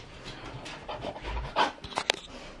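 A dog panting quickly and softly up close indoors, with a few small whimpers and brief louder sniffs or snorts near the end, and no talking.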